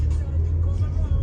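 A Porsche Macan drives along with a steady low engine and road rumble from inside the cabin, loud and continuous with faint background chatter.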